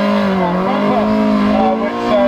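A race car locking a wheel on track, with a sustained loud tire squeal whose pitch wavers over a steady engine roar, continuous throughout.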